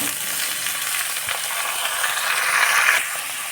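Potato pieces, then other vegetables, frying in a pan with oil for a light spice-free curry, giving a steady, close, dense sizzle that swells briefly near the end, with faint stirring scrapes and no talk.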